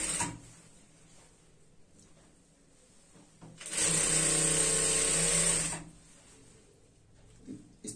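Sewing machine running a straight stitch on a semi-Patiala salwar, a loud whirring burst of about two seconds between quieter stretches with faint handling clicks, no speech.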